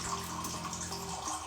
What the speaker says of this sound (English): just pour water into the cup